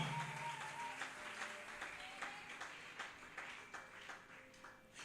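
A church congregation at a Sunday service applauds in praise, a faint, distant patter of scattered clapping with a few tonal notes drifting underneath.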